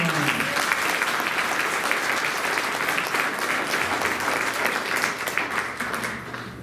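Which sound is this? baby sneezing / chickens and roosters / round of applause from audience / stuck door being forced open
round of applause from audience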